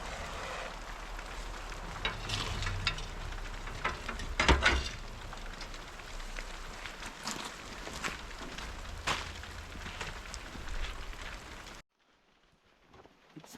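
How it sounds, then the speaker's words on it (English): Steady rain falls outdoors beside a homemade barrel stove, a dense broadband patter with a few louder drip ticks, constant and fairly close, until it cuts off abruptly near the end. "It's raining out, boys."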